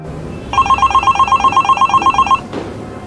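A telephone rings loudly in a domestic setting. One continuous burst of rapid electronic trilling lasts about two seconds and then cuts off abruptly.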